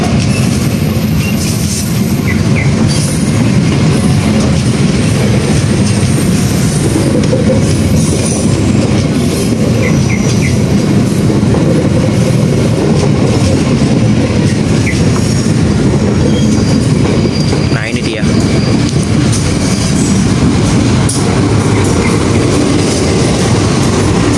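A heavy CC 201 diesel locomotive rumbles past loudly and continuously, wheels clattering and faintly squealing on the rails, very close throughout.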